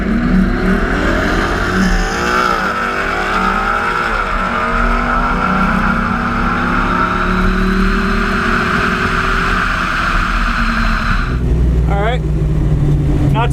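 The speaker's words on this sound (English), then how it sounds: "We're at the drag strip, so I got to run a couple passes today for the King of the Smokies" A drag racing car makes a pass at a drag strip, its engine screaming up through the revs with several shifts, loud and close, before a sudden cut and a brief tire chirp.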